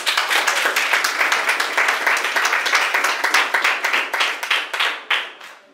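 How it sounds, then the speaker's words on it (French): An audience applauds the presentation of an award plaque of merit honoring Haitian cinema, a dense sustained burst of many hands clapping that thins and fades toward the end. "Applaudissez s'il vous plaît."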